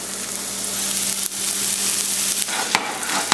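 Shallot and garlic fry in a pan in a restaurant chef's kitchen, giving a steady close sizzle. A few sharp ticks and stirring knocks sound over the hiss.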